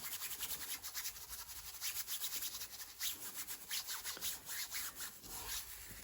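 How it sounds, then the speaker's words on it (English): A stiff hog bristle brush works oil paint onto canvas, giving a steady, close scratchy rubbing of repeated strokes with no pauses and no voices. "I'm using my stiff hog bristle brush."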